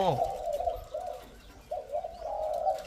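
A trained decoy bird calls in a mountain forest with a steady run of soft, cooing notes, broken by a short pause midway, against faint background rustle.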